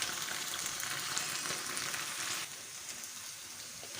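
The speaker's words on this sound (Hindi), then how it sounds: "भिंडियाँ हमारी देखें काफ़ी हद तक फ्राई हो चुकी हैं" Okra (bhindi) frying in a pan, a soft continuous sizzle with a crackling hiss, fairly quiet and close, dropping a little in level partway through, with no speech.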